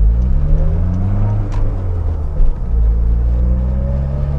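Car with a short shifter skipping from first to third gear, a loud, close engine rumble and drone that rises, dips briefly at the shift and pulls on again with a whirring note.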